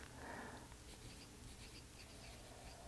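A fine-nib fountain pen scratches across paper, a soft close scraping stroke that is faint and continuous with no talking.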